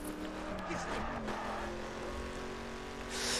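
Car engine in the racing video game The Crew, a sustained revving drone with steady harmonic tones and a rising whoosh near the end, loud and continuous throughout.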